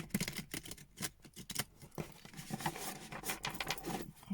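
Tarot cards are shuffled up close in a rapid run of soft riffling and tapping bursts, quiet and irregular, with no voice over them.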